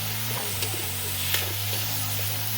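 Tomatoes go into a hot pan already cooking squid, giving a steady close sizzle with faint stirring scrapes and small pops throughout, under a low hum.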